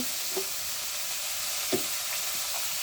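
Ash gourd greens frying with dried fish in a pan, a steady close sizzle running throughout with a few soft scrapes of the stirring spoon against the pan.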